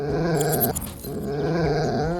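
Dogs growl at close range in a steady, low, continuous rumble that breaks off briefly and then resumes.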